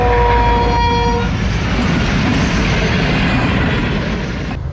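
The Sir Syed Express, a passenger train, passes Mando Dairo railway station. A loud horn blast opens the passage and trails off into a close, continuous rumble and clatter of rolling cars that runs nearly five seconds.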